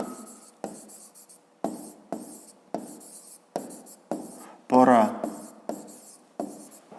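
A pen scratches across notebook paper in repeated short strokes, with a teacher-like voice talking over the writing during a grade 5 math exercise.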